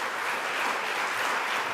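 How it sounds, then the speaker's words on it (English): Applause for a domestic violence survivor at a bill signing event held by New York Governor Kathy Hochul, a steady wash of clapping from a crowd at moderate level with no talking. "Let's give her another round of applause."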